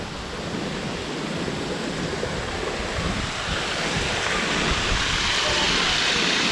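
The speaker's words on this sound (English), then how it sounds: "So we're at the top of the waterfall" The waterfall at Picnic Point rushes with a steady, broadband roar that stays loud and even, swelling slightly toward the end, with no voices over it.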